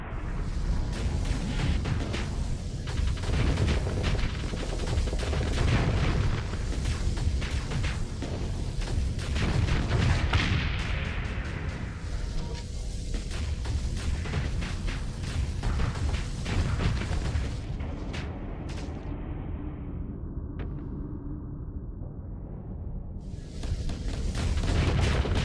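Missiles fire in rapid volleys in a Starsector space battle, with repeated booms and bursts stacking into a dense, rumbling barrage that thins out and pauses briefly before erupting again.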